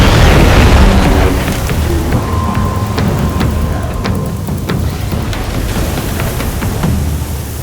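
Thunderstorm in the Horizon Zero Dawn video game: a deep rolling thunder boom at the start fading into a dense, steady downpour of heavy rain with scattered crackles, loud and without speech.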